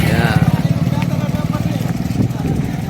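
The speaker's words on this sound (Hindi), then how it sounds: "ये जो मोटरसाइकिल आप देख रहे हैं" A motorcycle engine rumbles steadily and loudly nearby at a new tunnel site in Jamalpur, with a pulsing low drone throughout and someone talking over it.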